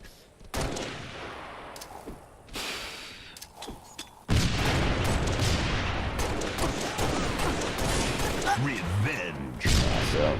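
Sniper rifle shots and grenade blasts from a Halo: Reach one-on-one match, sharp bursts and booms recurring throughout over dense game-effects noise, loudest in the second half.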